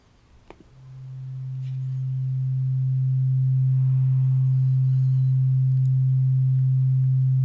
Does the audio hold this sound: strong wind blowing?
no